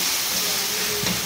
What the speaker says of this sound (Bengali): মশলাটা আস্তে আস্তে গ্যাসটা দিয়ে ভালো করে কষিয়ে নেব